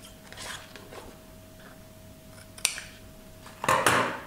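Scissors cutting the corners of a paper or card notepad holder: a few faint snips near the start, then sharper crisp cuts toward the end, close and with no voices.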